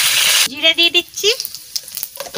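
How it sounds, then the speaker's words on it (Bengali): Cumin seeds drop into hot oil in a home kitchen and give a sharp burst of sizzling, followed by crackling and spitting bubbles, with a voice talking over the frying. "জিরে দিয়ে দিচ্ছি।"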